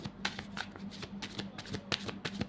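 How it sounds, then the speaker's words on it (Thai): Tarot cards being shuffled and dealt out during a Thai reading, a run of quick crisp riffling snaps and slaps close to the microphone, with a faint low hum beneath. "เปิดไพ่ไปสักสิบใบก่อนเนาะ"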